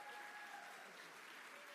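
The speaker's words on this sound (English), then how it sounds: "Turn around, take the applause." A faint, distant round of audience applause at a Holocaust Remembrance Day ceremony, an even wash of clapping continuing steadily without speech.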